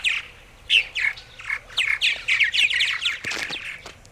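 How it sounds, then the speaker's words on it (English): Purple martins squawk and chirp in quick, harsh bursts close by as they are hand-fed crickets and scrambled egg, calls overlapping almost continuously with no talking. "So that's all it takes to feed purple martins"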